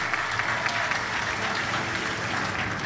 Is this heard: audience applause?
yes